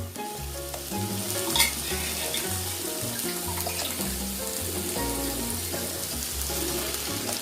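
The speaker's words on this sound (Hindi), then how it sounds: "टमाटो प्यूरी पूरा तड़का बन चुका है। हम राजमा ऐड करते हैं।" Kidney beans for Jammu-style rajma go into a sizzling tomato puree tadka, a steady crackling fry with a brief splash and clatter near the start, then an even sizzle with faint stirring and no talking.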